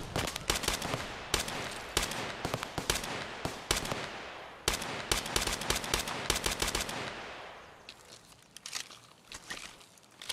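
Dense automatic gunfire from the video game Escape from Tarkov, with rapid bursts and sharp single shots packed close together at high volume, easing into quieter scattered shots and fading action near the end, with no talk.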